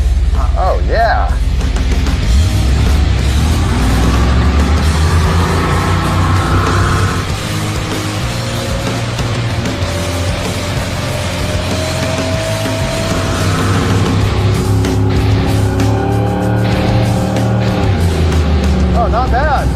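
A 1976 Camaro beater runs loud and rough throughout, its engine roaring steadily as it does a burnout on the road, heard from close by with people talking over it.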